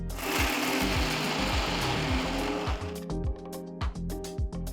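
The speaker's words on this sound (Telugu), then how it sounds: "కొద్ది కొద్దిగా నీళ్లు పోస్తూ మెత్తగా చిక్కగా ఉండేట్టు రుబ్బుకోవాలి" A mixer grinder churns coconut masala into a smooth paste with water added, its motor whirring loudly in pulsing cycles before it breaks into several short stop-start bursts.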